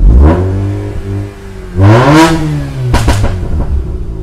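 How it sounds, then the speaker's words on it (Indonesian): A car engine revs up hard several times, the exhaust roaring and falling back between bursts, loud and close. "Anda gunakan indera indera pendengaran Anda untuk mendengerin knalpot dan sebagainya"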